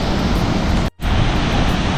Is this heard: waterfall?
yes